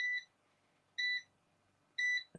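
Three short electronic beeps sound at even one-second intervals, each a clean high tone, fairly faint against a quiet background with no talking.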